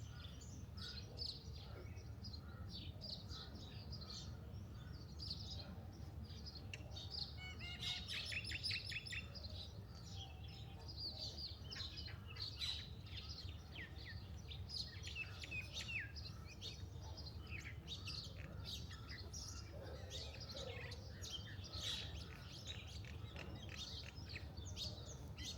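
Birds chirping outdoors in the mountains during a workout, many small tweets and calls scattered throughout at a moderate distance over a low steady background hum, without talk.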